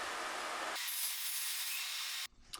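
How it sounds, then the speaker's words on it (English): A saw cuts along a curve through MDF to separate two templates, giving a steady close rasping grind with a brief change in pitch partway, then stopping abruptly near the end. "I now cut these two templates apart, just being sure I stay within the curve."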